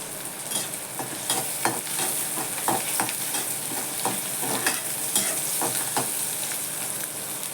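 Garlic, onion, cumin and mustard seeds fry in hot oil, a steady close sizzle with irregular crackles and pops and occasional stirring clinks, with no voices.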